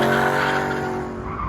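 A Corvette launches at a Goodguys drag race event, its engine roaring loud and close as the tires squeal and skid briefly, with no talking.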